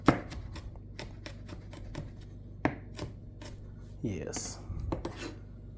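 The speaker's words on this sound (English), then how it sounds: "got the jalapeno all chopped up" A knife chopping a jalapeno on a chopping board in a home kitchen, a run of quick, crisp close taps at an uneven pace, with a short spoken word and some soft clatter.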